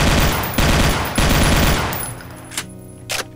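Assault rifle replacing the chain gun in the Doom 2 mod Project MSX, firing rapid sustained bursts in a loud crackling rattle, then trailing off into two separate single shots.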